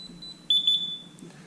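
A single clear electronic beep from an Ajax alarm system keypad as it is armed, a steady high tone of about half a second over a quiet room hum.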